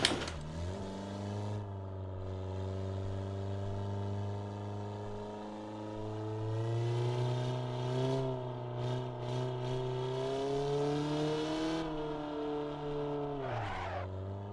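A Volkswagen Golf with unresponsive brakes races in Assetto Corsa, its engine droning close and loud, climbing in pitch through sustained revving, dipping briefly, then surging again with no talk.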